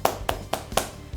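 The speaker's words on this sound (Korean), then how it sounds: "수고한 모두에게 한번 박수 한번 쳐줄까?" Children at a Sunday-school summer Bible camp clap in a few sharp, spaced bursts, four or five distinct hand claps close by with short pauses between them.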